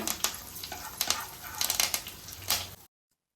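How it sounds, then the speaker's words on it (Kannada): Curry leaves frying in hot oil in a pan for a sweet corn masala snack, giving a close, continuous crackling sizzle with bursts of stirring scrapes, ending abruptly in silence. "ನೋಡಿ ಕರಿಬೇವು ಚೆನ್ನಾಗಿ ಫ್ರೈ ಆಗಿದೆ"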